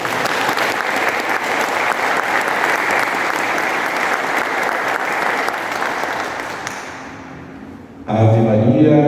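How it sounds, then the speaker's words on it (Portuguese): A church congregation applauds at a liturgical formation gathering, with dense, loud clapping for about seven seconds that tapers off, followed by a voice beginning to speak at the end. "uma salva de palmas a vocês."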